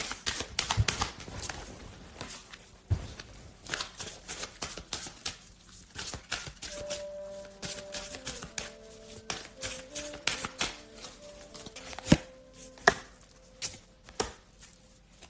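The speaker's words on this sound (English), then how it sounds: "I'm going to go ahead and draw some clarifying love cards." Oracle love cards are shuffled and drawn by hand, with rapid close papery riffles and taps that come in irregular bursts over faint background music, and no talk.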